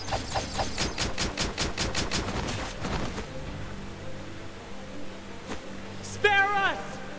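Volley of soldiers' guns firing on command in the video game Octopath Traveler, a rapid burst of repeated shots for about three seconds, then quieter background with a brief sweeping effect near the end.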